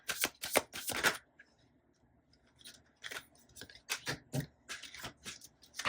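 Tarot cards are shuffled by hand in a quiet room, giving sharp, crisp riffling bursts in several short clusters with brief pauses between them, close and fairly soft.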